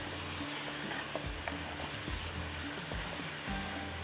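Mutton with saffron yogurt, coriander, mint and ginger stirred and fried in a pot for zafarani biryani: a soft, steady sizzle with a low background hum and periodic stirring knocks, no talking.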